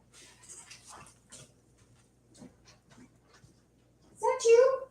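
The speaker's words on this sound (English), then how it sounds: "My dog wants in." A pet dog wanting to be let inside makes faint panting and small whimpering sounds, then a loud, drawn-out whine near the end.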